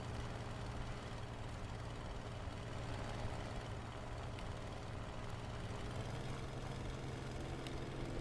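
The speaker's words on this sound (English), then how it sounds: "Listen to the sound of the Focke-Wulf. I never noticed the engine has such a booming voice." Focke-Wulf plane engine in War Thunder, a continuous booming low drone with steady rough texture, moderately quiet and unbroken throughout with no talk.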